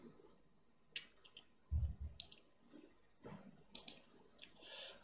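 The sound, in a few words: computer keyboard typing clicks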